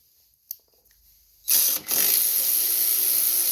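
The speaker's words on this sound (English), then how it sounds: "You'll need a 10 millimeter socket." A ratchet socket wrench with a 10 mm socket loosens carburetor bolts on a 208cc snowblower engine, its pawl clicking loudly and rapidly up close after a few soft taps, then whirring steadily, no talk.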